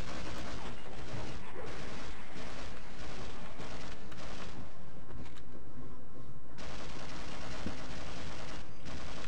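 Heavy gunfire rattles through a Half-Life firefight, dense overlapping bursts of automatic fire and booming impacts filling the whole stretch loud and close, with a brief lull near the end before the shooting resumes.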